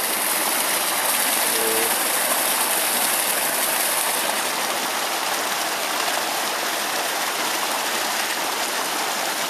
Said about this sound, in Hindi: हाउस से नीचे पानी गिर रहा है